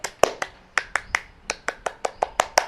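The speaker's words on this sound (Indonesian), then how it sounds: "Tepuk pramuka." Indonesian scout rhythmic clapping pattern, sharp close hand claps and snaps in a quick patterned rhythm, about a dozen crisp hits with no talking.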